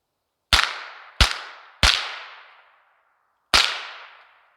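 Four sharp, loud Winchester Wildcat rifle shots fired in a test, irregularly spaced, each with a ringing tail that fades out, and quiet between them.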